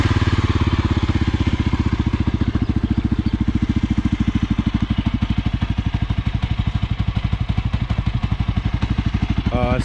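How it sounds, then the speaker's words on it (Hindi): A Yezdi Adventure motorcycle engine fires up and settles into a loud, close idle, its rapid even thumping pulse steady throughout, with a brief voice at the very end. "Let me just start the bike and show you the sound once again."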